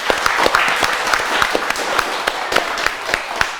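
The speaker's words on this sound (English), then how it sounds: "Give a clap to Bellville Buraaqs." A small studio audience at a Ramadan quiz show gives brief applause, sparse, distinct claps in an uneven rhythm, fairly close and moderately loud.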